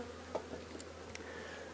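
Honeybees buzz faintly inside a working hive with a full colony, a quiet, steady hum with a few soft close passes.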